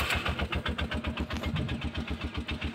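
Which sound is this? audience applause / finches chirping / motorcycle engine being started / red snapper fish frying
motorcycle engine being started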